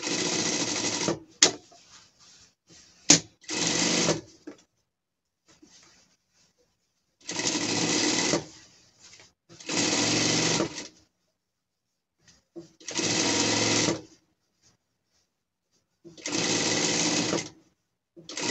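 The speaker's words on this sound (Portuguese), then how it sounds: "vamos passar uma costura daqui por tudo até aqui" A sewing machine stitches a seam on a small gaucho costume for a pet, running in repeated short bursts of rapid whirring with quiet pauses between, clear and close.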